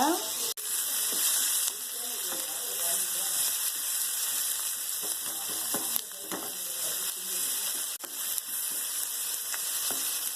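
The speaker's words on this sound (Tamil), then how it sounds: "இது கூட தக்காளி. ஹை ஃப்ளேம்ல வச்சு வதக்கிக்கோங்க." Tomatoes sautéing on high flame for a restaurant-style cheesy white sauce pasta give a steady, loud sizzle and frying hiss throughout, with occasional spoon stirs and scrapes close by.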